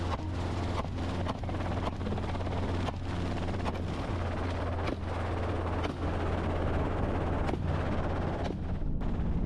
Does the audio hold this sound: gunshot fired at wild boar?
yes